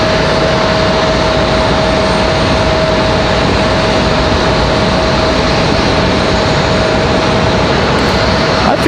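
An Embraer E175 regional jet at Raleigh-Durham International Airport sends out a loud, sustained engine roar with a steady whine running through it, close by and unbroken, with no voices.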